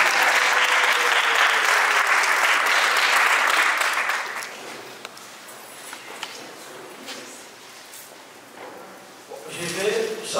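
A wedding congregation at a church celebration breaks into loud, dense applause that fades after a few seconds into murmuring and scattered noises, with a voice speaking near the end.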